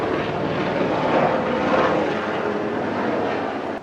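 A helicopter passes overhead with a steady broadband rotor and engine roar, loud and continuous throughout, fading slightly at the end, with no talking.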